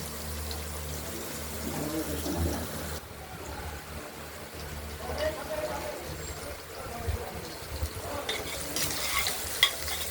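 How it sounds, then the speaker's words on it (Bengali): Potatoes fry in a pan for a rohu fish curry with coriander, a soft sizzle broken by stirring scrapes and a brief liquid pour, moderately close and quiet, with faint background voices. "আলুগুলো ভাজা হচ্ছে"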